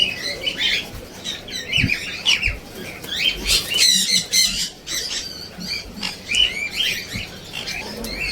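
Migratory birds at a busy bird market squawk and chirp loudly and constantly, with overlapping harsh calls, bursts of bright chatter and occasional wing flutters, close by and without speech.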